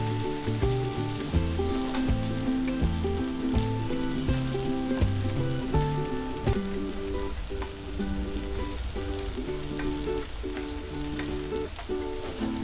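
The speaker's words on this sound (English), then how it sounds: "Add the marinated mutton. And fry this for about 2 minutes." Marinated mutton frying in hot mustard oil in a pan, a continuous crackling sizzle punctuated by stirring and spatula scrapes, close and steady, with background music underneath.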